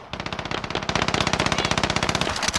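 Rapid automatic gunfire from a Call of Duty Warzone match, a loud continuous burst of closely spaced shots rattling for nearly three seconds without any talk.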